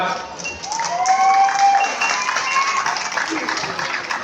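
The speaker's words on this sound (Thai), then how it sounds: "ขอเสียงปรบมือหน่อยครับ" Crowd applause at a Thai fair contest crowning a champion bull pair, scattered clapping and cheering from an outdoor audience, with whistles or a tonal call drifting over it and voices mixed in.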